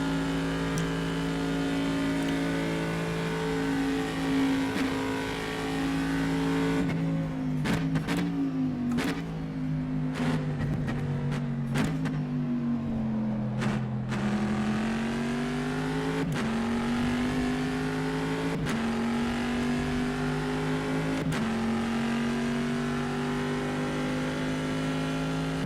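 A race car's engine drives continuously in the rFactor 2 EnduRacers mod, a steady loud drone broken by repeated gear shifts and revving changes, with no talk.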